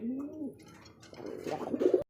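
Racer pigeons cooing at a pigeon market, a couple of soft, close throaty coos over a short stretch with a faint rustle between them.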